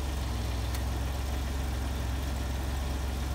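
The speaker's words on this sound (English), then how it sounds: "Now let's count the time between the regulator clicks." A Citroen engine idles steadily with a low, even rumble, its hydraulic pressure regulator checked for clicks; no distinct click stands out, just a faint tick early on above the constant idle.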